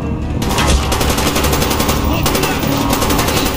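Rapid automatic gunfire from a Call of Duty: Black Ops campaign firefight, loud and continuous bursts filling the whole stretch with dense, layered shots.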